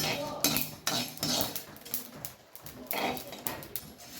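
Coriander, fennel and black pepper are dry-roasted in a pan, a spoon scraping and rattling against the metal in quick rhythmic strokes, moderately close and fairly quiet.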